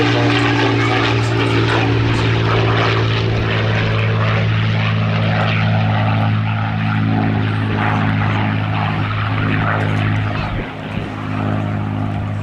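Supermarine Spitfire of the Battle of Britain Memorial Flight at an air festival, its propeller engine droning loud and steady throughout with strong low harmonics, easing slightly near the end.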